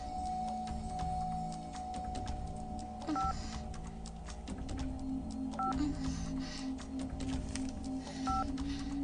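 Telephone dialing tones: a series of short, clear beeps pressed one after another at uneven intervals, set against a quiet indoor room hum with no speech.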